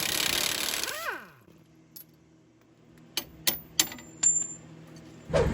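A ratchet working the 21 mm nut off the lower shock bolt on a Sierra truck, starting with a brief loud rush and falling whine, then sparse sharp metallic clicks and clanks close by with no voices.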